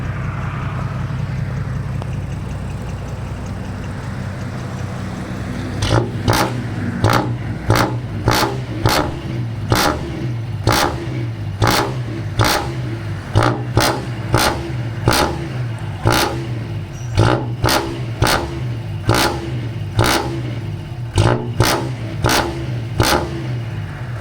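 An Isuzu 175 pickup engine with a twin-tip exhaust idles, then blips in a long series of sharp, evenly spaced revs, loud and close.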